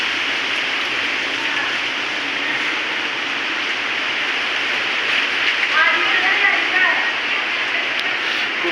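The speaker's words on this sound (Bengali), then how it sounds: "মাশাল্লাহ কি তুফান হইতেছে" A rainstorm sweeps over a village as dense, steady rain hisses continuously and fairly loudly. A voice speaks briefly near the end.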